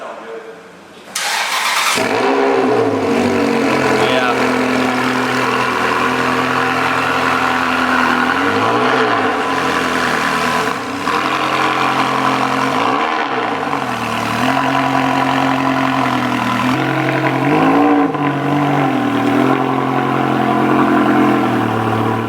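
A Ferrari 360 Spider with a gated manual starts up with a sharp crank and catches, then idles loudly with several throaty revs rising and falling close by, while a voice talks over it.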